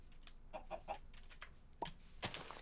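Chickens cluck in the Minecraft video game, several short, separate clucks spread unevenly, at moderate loudness over a quiet background, with no talk.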